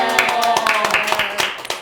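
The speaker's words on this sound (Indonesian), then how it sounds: "Tepuk tangan dulu dong" Several hand claps ring out in a loose, uneven burst, mixed with overlapping voices and background music.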